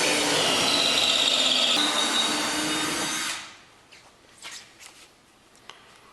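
A drill bit boring through the hull of a MirroCraft boat grinds loudly and continuously for about three seconds, then stops, leaving only faint clicks and handling noises.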